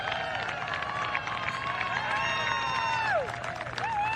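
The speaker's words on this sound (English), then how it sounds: "Listen to this crowd" A basketball arena crowd roars and cheers in a steady, dense wash of noise, with whistling tones and shouts rising above it, loud and continuous throughout.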